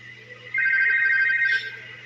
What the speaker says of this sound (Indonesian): ponsel milik salah satu anggota dewan pun berbunyi saat Jilong menghubungi nomor tersebut.